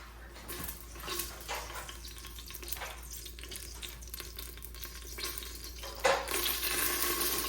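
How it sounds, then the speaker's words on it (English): Oil goes into a pressure pot for Jamaican-style curry goat with a steady, watery pouring rush, moderately close, that swells into a louder splashing stretch near the end. "we're gonna go ahead and throw some oil in the pot"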